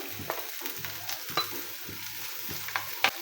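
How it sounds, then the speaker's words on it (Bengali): Chopped onion and green chillies frying in a pan, a steady sizzle broken by regular scraping stirs and light clinks from a spatula, close and moderately loud, no talking. "এখন আমি এই পর্যায়ে দিয়ে দিব 3টা কাঁচামরিচ কুচি।"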